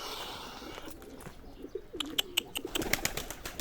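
Young Turkish tumbler pigeons in a loft give soft, low coos, followed by a run of sharp clicks and brief flutters, close by and without talk.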